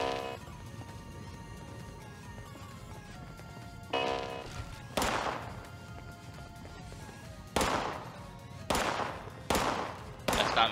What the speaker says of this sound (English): He's shooting at us.